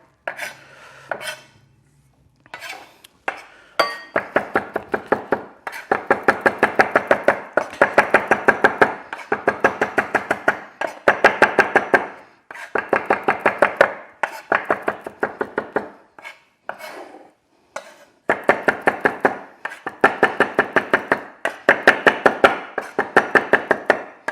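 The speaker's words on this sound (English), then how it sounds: "So you want to chop this a bit finer than the parsley that I chopped earlier on" Fresh garden mint being chopped finely with a knife on a board, rapid crisp rhythmic blade taps in repeated bursts with short pauses between runs, close and clear with no speech.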